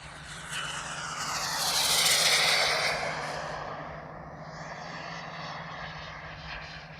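A giant-scale RC T-38 Talon model jet flies just above half throttle, its turbine whine swelling as it passes overhead and then fading into the distance, heard alone outdoors.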